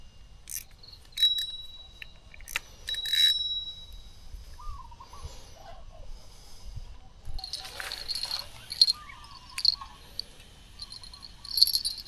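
A small bell on a bottom-fishing rod by the Songkhram River gives a couple of brief, faint high jingles early on, set against a steady chorus of crickets and insects in a quiet outdoor night.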